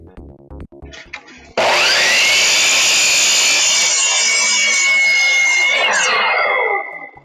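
A worn blade saws through wood, starting with a few light scrapes before a loud, continuous cut of about four seconds that then tapers off, with no talking.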